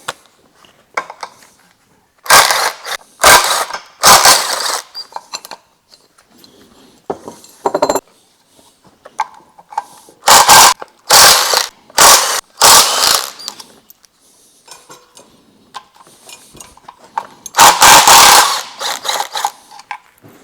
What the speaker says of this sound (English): Let's get this water pump off.